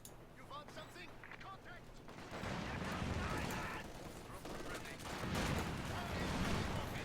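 Battle gunfire in Company of Heroes 2 as Pioneer infantry shoot, with dense rattling bursts and booms building over the second half. A commentator talks over the opening.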